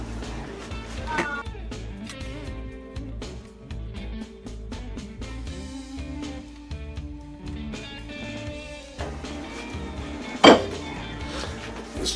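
Pots and pans clank and scrape as a roasting pan is pulled out from a cupboard, with clustered metallic knocks and one sharp clang near the end while someone talks.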